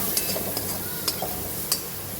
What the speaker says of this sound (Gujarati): હવે આપણે હલાવી દઈશું